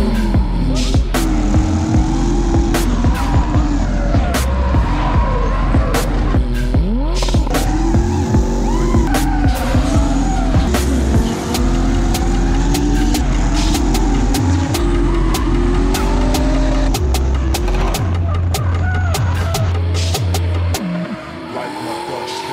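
A 1967 Opel Kadett B drift car roars loud and close at sustained high revs, with repeated tire squeals and skids layered over the engine for the whole stretch before it eases off near the end.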